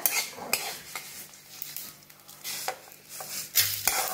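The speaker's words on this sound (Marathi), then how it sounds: "आता मोहरी भाजल्या, काढून घेऊया।" Mustard seeds dry-roasting in a pan for homemade red chili masala powder, with a utensil scraping and clinking against the metal in irregular strokes and a faint crackle underneath.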